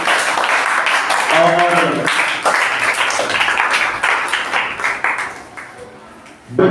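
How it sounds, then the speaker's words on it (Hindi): A live audience claps to welcome a team at a junior Hindi grammar quiz semifinal. The applause is loud and steady, and a host's voice speaks over it. "मैं दर्शक से आग्रह करूंगा एक बार जोरदार तालियों से टीम का स्वागत करेंगे"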